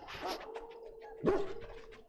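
A dog in the video game Dragon Age: Origins gives a few short barks and a whimpering whine, heard close and fairly quiet over a faint steady tone.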